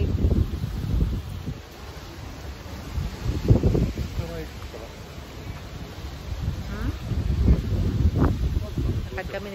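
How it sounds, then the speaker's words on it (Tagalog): Blustery wind buffets the microphone in a constant low rumble, with a person talking intermittently over it. "It's very windy"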